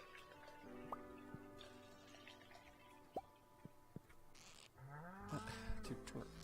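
A farm cow in the video game Stardew Valley lets out a short synthesized moo near the end, preceded by scattered soft drips and ticks of game sound effects over a quiet background.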